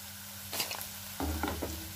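Okra frying in a pan, a close steady sizzle with short scraping stirs partway through and a louder burst of hissing as the pieces are turned.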